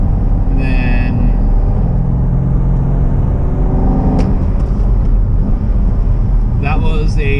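A C6 Corvette's V8 drones loud and close as the car drops from 6th to 4th gear with an automatic rev-match blip. The revs swell briefly midway through the steady engine rumble.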